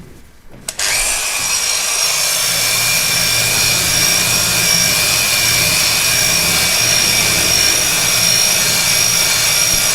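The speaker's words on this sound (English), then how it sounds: "So I'm just going to quickly show you that, how we can take care of rust on a plate like this." A PTX machine fitted with a Tyrolit Strip-It brush spins up after a brief quiet moment and then grinds steadily against a rusty plate, a loud, continuous abrasive whir with a high whine.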